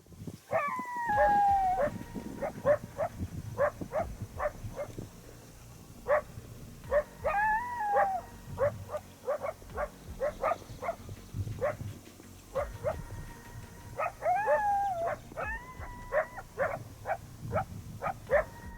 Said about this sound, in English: we heard the distinct barks and howls from a couple of coyotes